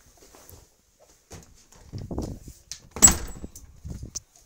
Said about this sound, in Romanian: O să pot să închid ușa.